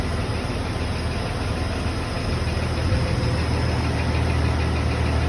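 A Jeep engine idles with its AC compressor engaged, a loud, close, steady rumble with a faint knocking vibration and constant high whine throughout, no talking.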